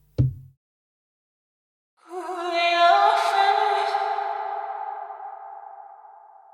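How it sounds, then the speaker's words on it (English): A short low thump, a gap, then a swelling, shimmering synth tone with a long reverberant wash that slowly fades, heard alone: a reversed sample with reverb placed before it, made on a Maschine MK3. "So now that we've reversed the sample, we apply reverb to it."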